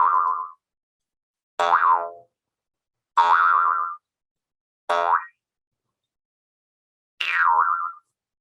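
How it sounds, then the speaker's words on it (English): Five twangy jaw harp boings, each a short buzzing tone that swoops in pitch, separated by brief silences. "something I think is fun to play is the boing noise"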